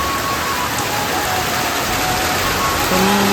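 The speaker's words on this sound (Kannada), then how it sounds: "ಸೂಪರ್ ಮಳೆ" Heavy rain falling steadily on a rainy day, a loud continuous hiss of dense drops that stays even throughout, with no voices over it.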